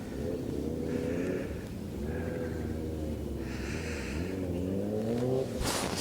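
Loud engine of a motorbike or race car revving nearby on a golf course in Batam, Indonesia, a droning tone rising and falling through several throttle swells with no talk over it.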